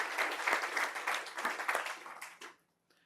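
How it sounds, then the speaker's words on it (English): A school board meeting audience in Yakima, honoring a retiring district employee, breaks into a round of applause: brisk, dense clapping from many hands for over two seconds, then tapering off quickly into near silence. "Please give her a round of applause."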